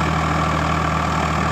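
A Farmtrac 60 tractor runs a super seeder, and its engine gives a loud, close, steady drone with a low rumble and no pauses or voices.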